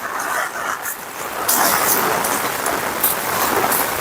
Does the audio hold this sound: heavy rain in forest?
yes